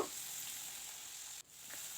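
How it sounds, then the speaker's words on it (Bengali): Pieces of fish frying in a pan of hot oil, a steady close hiss that runs evenly for about two seconds, breaking off briefly near the end before picking back up. "অল্প অল্প করে মাছগুলো ভাজা করে নেব"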